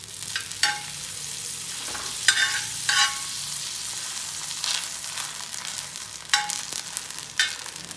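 Sweet dosa folded and spread with butter sizzles on a hot pan, a steady close fry with repeated bursts of stirring and scraping from a spatula.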